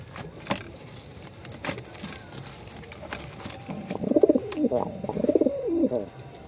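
Giribaj pigeons, a mated master pair sitting on eggs, coo in a close run of rolling, throaty calls over the second half, with a faint background hum and a few sharp clicks before.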